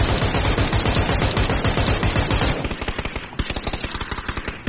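Rapid gunfire in PUBG, a dense, loud, continuous stream of automatic shots followed by slightly spaced bursts, with no talk over it.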